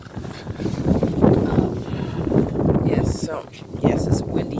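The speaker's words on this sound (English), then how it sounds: "it's a windy side" Gusty wind buffets the microphone in low rumbling surges while someone talks over it outdoors on Fuerteventura.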